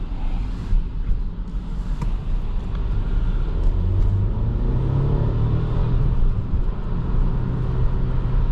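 A 2022 Mercedes GLC 300 4Matic all-wheel-drive SUV accelerates, heard as a steady low engine rumble with road noise from inside the cabin, swelling gradually as the pitch climbs.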